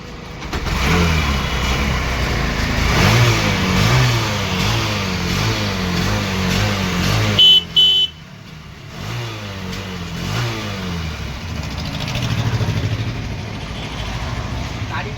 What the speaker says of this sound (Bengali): গাড়িটা স্টার্ট করে দেখিয়ে দিচ্ছি আমি ভিওয়ারদের